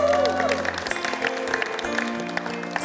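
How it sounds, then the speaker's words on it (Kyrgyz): Applause for the camera operators of the Kyrgyz NTS television show Biz Joluktuk, a steady patter of clapping from an audience that swells after the first second, with a brief voice and background music at the start. "биз жолуктук долбоорунун жалпы оператор мырзаларына катуураак кол чаап коебуз"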